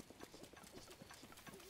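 Horse hooves clip-clop in a steady rhythm as a mount moves through the world of Breath of the Wild, the quiet in-game footsteps soft and fairly even across the short stretch.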